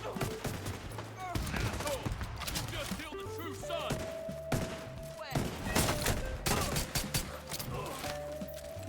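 Gunfire from the Division 2 video game, a stream of rapid impacts and bursts layered with game effects and music, loud throughout, with a voice talking over parts of it.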